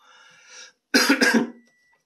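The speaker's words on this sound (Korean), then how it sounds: "중간에 기침이 나오면 좀 이해를 해주기 바랄게요" A single person coughs in a short, loud burst of several hacking pulses, alone against silence, right after a faint stretch of breathy tonal sound.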